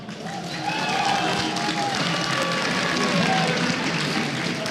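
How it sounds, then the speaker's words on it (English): Crowd applause at the IEM 2015 Taipei StarCraft 2 event greets a finalist on stage, a steady wash of clapping and murmur in a large hall lasting throughout. "Everyone, let's give him a round of applause."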